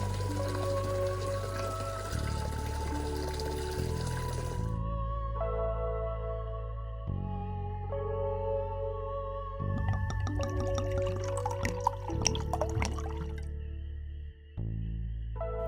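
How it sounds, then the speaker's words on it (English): Water drains from a small reef aquarium, with steady trickling and dripping over a low pump hum and a brief cluster of splashy drips near the end. "After this, I started draining the water."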